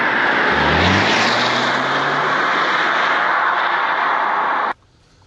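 A steady, loud engine roar from an Audi A6 50 TFSIe plug-in hybrid as the engine takes over from battery power under hard acceleration, a low tone rising early on, then cutting off abruptly near the end.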